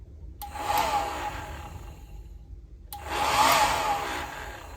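A hair dryer whirs in two bursts, switching on, cutting out briefly, then starting again with a steady high whine and airy rush.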